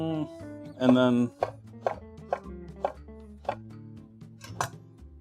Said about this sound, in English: complex chopping here, chat, because it's going in the blender.